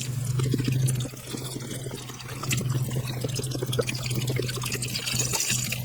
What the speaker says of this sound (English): Next, I'm going to go ahead and add my whole carton of chicken broth.